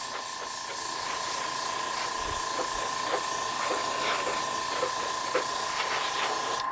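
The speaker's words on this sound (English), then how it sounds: "I used my airbrush to make sure my inks" Airbrush blowing a steady stream of air to dry alcohol inks on a black canvas, a constant broad hiss with a faint hum that runs through the whole stretch with no talking.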